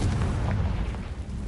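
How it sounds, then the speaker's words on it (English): The Confringo explosion spell from a Harry Potter video game bursts with a deep, rumbling boom that stays loud and dense throughout, then slowly settles. "Confringo!"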